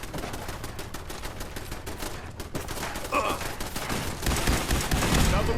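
Fallout 4 gunfire crackles in rapid, dense bursts of shots, building into heavier sustained firing toward the end with a brief lull midway.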